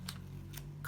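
Scissors snip through thick placemat paper, a few short, crisp cuts spaced apart over a faint low hum, close and fairly quiet.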